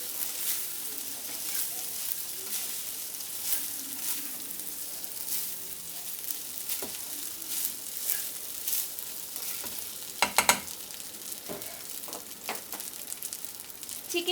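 Fried rice with chicken and egg is stirred and mixed in a pan with soft sizzling, irregular scraping and tossing scrapes, and a louder clatter burst midway, nearby and moderate.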